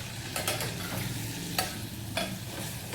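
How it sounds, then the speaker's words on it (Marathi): A tomato, red chilli and garlic mixture roasting in ghee gives a quiet, steady frying hiss, broken by a few sharp scrapes as it is stirred in the pan. "आता हे सगळं मिश्रण व्यवस्थित भाजून घेऊया आपण"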